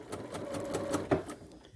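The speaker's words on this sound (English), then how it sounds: "And I'm just going to sew" A sewing machine stitches a quarter-inch seam along folded fabric for a bias scarf, a quiet, close, rapid mechanical chatter with regular needle ticks running throughout.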